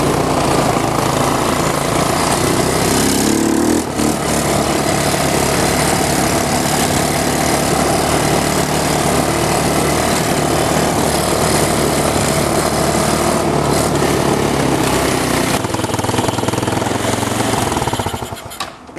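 A 150cc GY6 engine on a mini monster truck runs steadily at quarter throttle on an off-road trail, a loud, continuous buzzing drone with a rough mechanical chatter that holds nearly unbroken for the whole stretch before easing off at the end.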